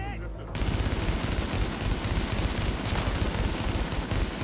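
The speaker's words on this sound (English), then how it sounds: "Oh, I'm getting sniped from my bros up there." Sniper fire in The Division begins abruptly after a short pause and then keeps pounding as dense, loud, rapid shots for several seconds, close and sustained.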